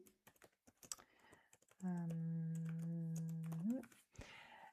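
Keys clatter in quick irregular bursts on a computer keyboard, close and fairly quiet, interrupted midway by a sustained steady tone before the tapping resumes.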